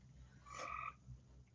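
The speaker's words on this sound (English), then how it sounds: "that's the frog, Malka." A single frog croaks at a pool during mating season, a short, faint, rasping call that rises and fades within half a second, followed by a sharp click at the very end.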